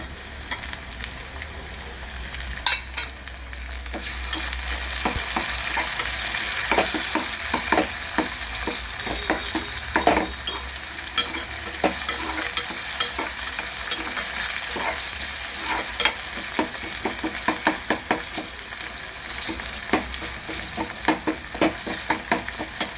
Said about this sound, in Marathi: कांदा आपला भाजत आलेला आहे